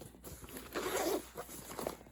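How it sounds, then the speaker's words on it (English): A slightly stiff zipper on a 4-litre Tomtoc Compact sling bag is pulled open in a couple of short, scratchy, close-up strokes with soft handling rustle around them. "the zippers feel a little stiffer"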